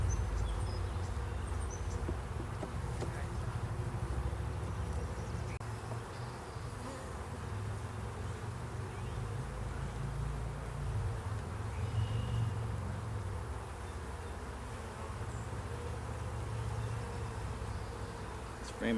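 Honey bees hum in a steady, low drone around open hive frames during a colony inspection, close and continuous for the whole stretch, with a faint voice now and then.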